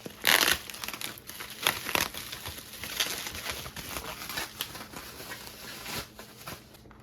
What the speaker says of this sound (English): We've got some packing material, mostly newspapers.